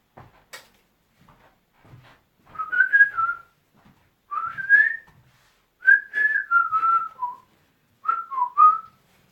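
A person whistles short, wavering melodic phrases, several bursts with pauses between, close and clear, with faint knocks in the background.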